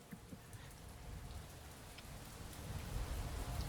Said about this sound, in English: Now that I hear the rain, I think I'm enjoying it more.